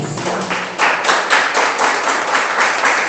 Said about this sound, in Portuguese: dá um aplauso ao Senhor Jesus